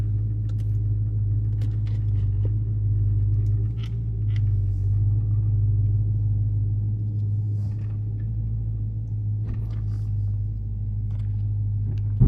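A 2023 Dodge Charger Scat Pack rumbles with a deep, steady engine drone heard from inside the car, accompanied by faint clicks and small rattles.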